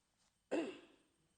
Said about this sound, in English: cough is there